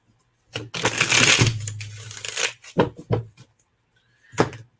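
A deck of playing cards being shuffled at close range, with a long riffling burst followed by a few short, sharp card snaps and riffles, all without any talking.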